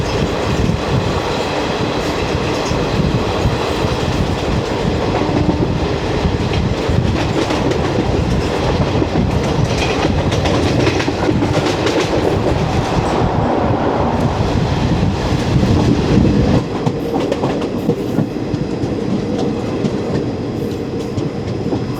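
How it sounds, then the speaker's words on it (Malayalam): The 12076 Jan Shatabdi Express rolls on rails into Aluva station in Kerala, with a steady loud rumble and clickety-clack of wheels heard from inside, easing somewhat near the end, with no voices. "അപ്പം നമ്മളങ്ങനെ ആലുവ സ്റ്റേഷനിലേക്ക് പ്രവേശിക്കുകയാണ്."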